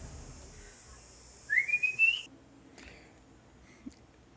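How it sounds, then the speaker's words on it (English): A single rising whistle from a person calling a dog sounds once, thin and moderately loud over a quiet background, followed by faint indoor sounds. "That little whistle you might have heard"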